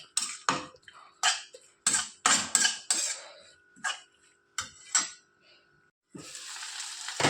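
Spoon and pan clatter in a series of sharp clanks with a voice in between, then capsicum pieces dropped onto hot oil with cumin set off a sudden, steady sizzle close by.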